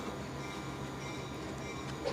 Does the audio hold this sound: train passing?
yes